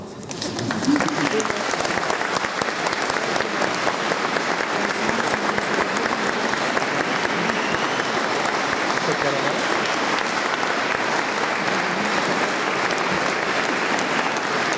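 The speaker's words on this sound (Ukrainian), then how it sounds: "Можна аплодувати." Sustained applause from a community-day audience in Kyiv, dense and steady from start to finish, fairly close and loud with no break.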